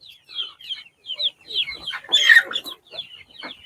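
Chickens cluck and chatter in short, bright bursts around a hanging water drinker, close up and fairly loud, with overlapping calls and brief pauses.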